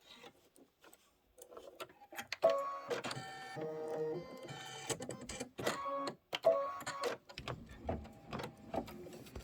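A small vintage-style sewing machine stitches in rapid bursts, its mechanical rattle starting and stopping several times with short pauses between runs, fairly close and clear.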